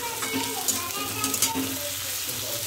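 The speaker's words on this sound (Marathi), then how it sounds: "आता हे एक मिनिटभर मी परतवून घेते थोडं" Vegetables and tomato sautéing in a pan, a steady close sizzle and frying hiss with occasional stirring clatter throughout.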